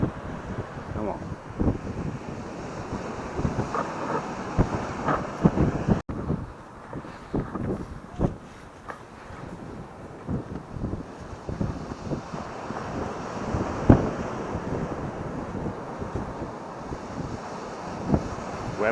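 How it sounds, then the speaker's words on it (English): A strong gale buffets a beach, roaring over the microphone in heavy, uneven gusts with sharp bursts of wind noise, while surf washes faintly beneath and a voice speaks briefly. "It is blowing a gale, yeah."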